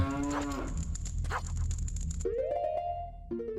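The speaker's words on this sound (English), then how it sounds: "Cow." Cow mooing in the video game The Legend of Zelda: Majora's Mask, a loud drawn-out low moo followed by electronic game chime tones, with no talk.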